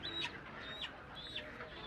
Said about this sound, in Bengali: সব ধরনের মুরগি আপনারা পাবেন দেখতেই পাচ্ছেন মুরগি বাজারটা মার্শাল্লাহ অনেক সুন্দর জমে উঠছে